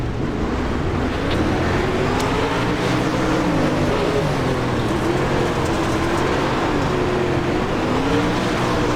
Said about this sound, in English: it is a beautiful day to do some sprint cars on iRacing at the Lanier National Speedway